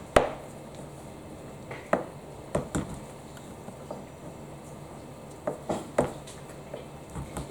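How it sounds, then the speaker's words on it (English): Chocolate chips drop into a bowl in a school kitchen, a series of sharp small clatters and taps spaced irregularly against quiet background. "I'm placing the chocolate chips"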